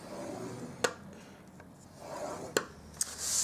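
Paper is scored with a scoring tool for a pizza box, giving soft rubbing strokes and a few sharp clicks or taps at close range in an otherwise quiet room.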